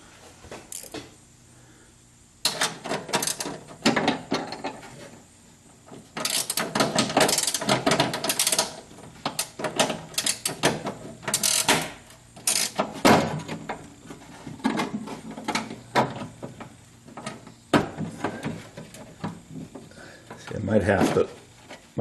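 A ratchet wrench clicks in repeated bursts while working on the power window of a 1976 Corvette restomod, with rapid mechanical ratcheting and metallic handling noises close by and occasional pauses.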